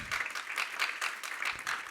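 A church congregation claps in praise to the Lord, a steady burst of rhythmic applause from a moderate distance, fairly quiet and with no other sounds.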